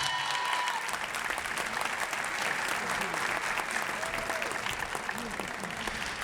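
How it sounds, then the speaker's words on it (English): A large audience gives award winners a round of applause at a city's State of the City event, with sustained clapping and crowd noise throughout and a voice faintly underneath. "Another round of applause to all our winners."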